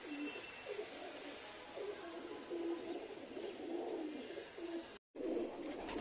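Madrasi pigeons with yellow eyelids coo in low, repeated soft phrases, fairly close, over a steady background hiss with a brief dropout near the end.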